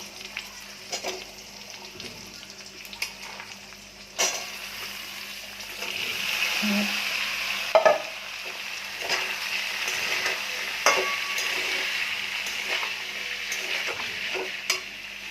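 Potatoes, pointed gourd and banana stem fry with panch phoron in a pan, a soft steady sizzle with occasional stirring clatters and scrapes, quiet and close.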